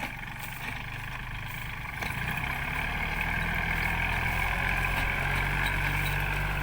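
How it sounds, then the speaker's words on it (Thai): A Kubota 36 hp tractor pulls a corn seed and fertilizer planter through a rice field, a steady close engine drone that grows slightly louder after a couple of seconds and continues without talk. "เราไปดูเครื่องหยอดข้าวโพดที่ติดกับรถไถ คูโบต้า 36 แรงครับ"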